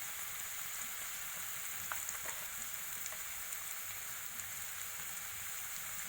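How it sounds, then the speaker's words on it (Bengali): Spices with turmeric and salt sautéing in oil for a homestyle tilapia curry, a steady, even sizzle throughout with a few faint scrapes of stirring, no voices. "মশলাটাকে ভালো করে আমি কষিয়ে নেব"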